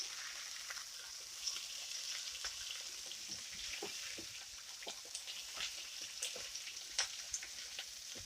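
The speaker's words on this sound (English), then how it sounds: "Okay, we're gonna flip the potatoes." Potatoes and onions fry in a pan, a steady soft sizzle with scattered quiet scrapes and taps as they are stirred and flipped, heard up close and fairly faint without talking.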